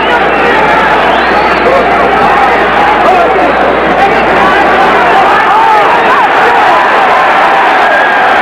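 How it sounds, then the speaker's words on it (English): A dense boxing arena crowd at a 1980 USA versus Cuba amateur bout roars continuously, a loud sustained wall of cheering and hubbub with no break. "Crowd roars, half mockingly, as Stevenson gets a call."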